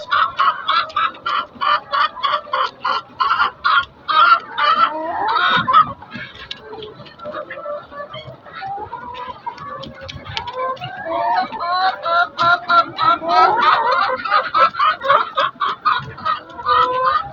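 A Lohmann laying hen on a poultry farm, straining to pass an egg and suffering prolapse, clucks loudly and close in rapid rhythmic bursts, with a few drawn-out, wavering calls in the middle.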